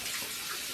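Water runs steadily from a bathroom tap to wet a toothbrush, a continuous broadband hiss at close range with no talk over it.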